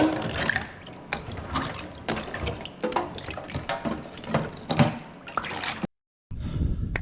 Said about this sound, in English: these can go straight in the ice slurry